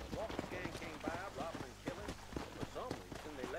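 Horse hooves clip-clop in Red Dead Redemption, a steady run of hoof beats mixed with game sound and voices talking over them.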